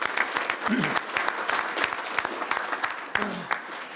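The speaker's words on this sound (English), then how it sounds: "So let's give Reba a good warm applause here." Warm applause from attendees at a tribal council meeting, a steady crowd of hands clapping for several seconds with some faint voices mixed in.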